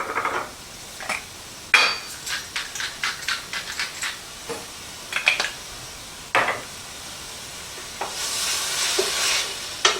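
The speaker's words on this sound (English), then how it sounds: "we're cooking this with just peppers and onions" Peppers and onions cooking in a pan for beef enchiladas rojas, with a steady sizzle under repeated close scrapes and clacks of a utensil stirring against the pan, and a louder hiss swelling near the end.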